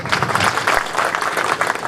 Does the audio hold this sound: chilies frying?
no